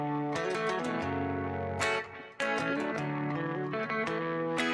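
An electric guitar run through a Vox 20 amp and cabinet simulation with light distortion and equalization, playing bright chords and plucked notes with a short pause midway, alone and clear.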